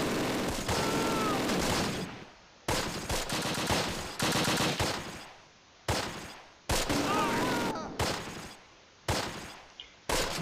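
Machine-gun fire in the Close Combat: Last Stand Arnhem war game, loud sustained bursts broken by short gaps, dense and close, with a voice briefly over it.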